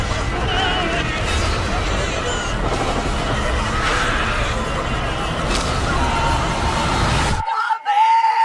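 In a horror short film, frantic screaming and shouting run steadily over a dense, noisy scene for about seven seconds, then cut off abruptly and leave near silence.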